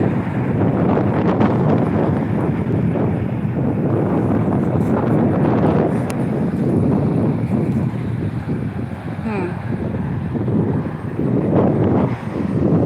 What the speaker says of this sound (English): Well, I'm sure that sounds terrible. The wind.